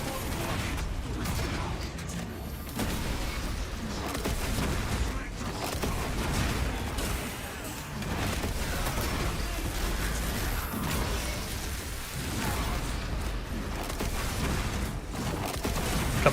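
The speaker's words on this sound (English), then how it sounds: "Who is shooting at me?" Sustained gunfire from a Space Marine 2 firefight pours in without letup, dense bursts and heavy impacts layered over mechanical clatter, with a player's voice breaking in now and then.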